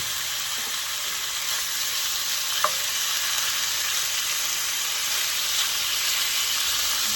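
Steady, dense sizzling of steak frying in hot oil, a continuous crackling hiss with a faint clink partway through, no voices.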